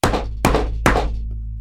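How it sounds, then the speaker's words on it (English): Three loud, close knocks on a door, evenly spaced about half a second apart, each a heavy thunk with a short decay and a low hum underneath. "What, knocks in my stories are never a good thing, right?"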